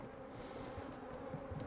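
Honey bees buzz on a hive frame, a dense, steady swarm drone that is close and moderately loud, with no voices.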